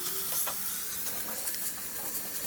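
Green chilies and ginger-garlic paste sizzle in hot oil with a bright, steady hiss and a few crackling pops.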